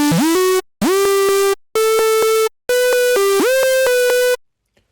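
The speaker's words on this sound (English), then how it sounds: "this is what the synth sounds like without any external processing" A bright, buzzy multi-oscillator synth patch built in Spire with no external processing plays four sustained chords, each gliding upward into pitch at its start, with short gaps between them and a clean stop.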